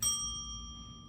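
A small bell used in a magic trick rings once, a clear bright ding with sustained ringing overtones that slowly fade, alone without talk.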